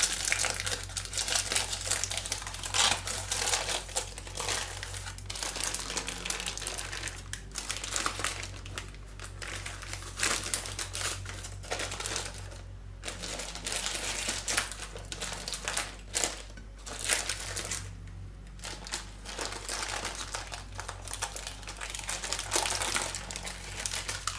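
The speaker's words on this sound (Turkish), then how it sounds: "Dikkatlice pişirme kağıdını çekelim." Baking paper peeled away from a cake, a long run of soft crinkling and rustling that keeps rising and falling without a break.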